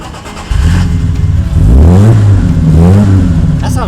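A 1953 Jaguar XK120 roadster fires up after a push start, then its engine revs loudly and closely in two rising sweeps, settling between them, with no speech over it.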